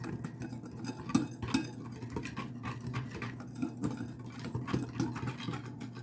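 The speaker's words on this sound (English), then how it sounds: "I'm just going to take my whisk and make sure everything is incorporated evenly" Whisk beating a pork chop marinade in a bowl, producing a steady run of light metallic clinks and scrapes against the bowl, moderately close, with a low background hum and no talking.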